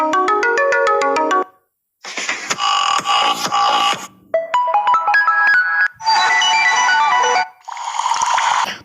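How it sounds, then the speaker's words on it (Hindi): A series of 3D ringtones plays from an Android phone, loud and close, in separate bursts of bright synthesized melodies and chime-like tones with brief silent gaps between them. "मैं फिलहाल एक दो रिंगटोन को प्ले करके देख लेता हूँ।"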